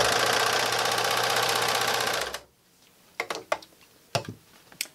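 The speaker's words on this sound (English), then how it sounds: "I'm going to take it to my serger" A serger stitches steadily along the curved edge of a homemade fabric face mask, a loud continuous mechanical whir for about two seconds, then stops, followed by a few sharp handling clicks and taps.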